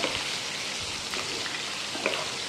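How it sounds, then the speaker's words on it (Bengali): Diced potatoes fry in mustard oil in a hot wok, giving a steady dense sizzle with small pops and crackles throughout, close and even, with no voices. "এখন আমি ওই ডুমো করে কেটে রাখা আলুগুলো ভেজে নেব"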